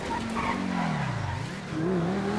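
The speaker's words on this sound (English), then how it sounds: "It started doing the burnout." An armored truck in GTA 5 spins its tires in a burnout, giving a loud, continuous squeal with a pitch that dips and rises over engine noise, heard alone without talk.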